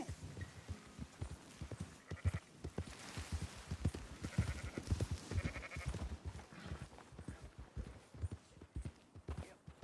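A flock of sheep in Red Dead Redemption 2 bleat amid trampling hooves, a dense, continuous jumble of calls and footfalls close by, with no speech.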